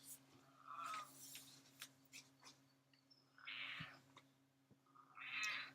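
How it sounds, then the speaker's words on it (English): A cat shut in an indoor room meows and caterwauls several times, the drawn-out cries fairly soft and spread apart, with small thumps and room noise in between. "So Tuna's trapped in here with me because, like I said, the cats don't get along"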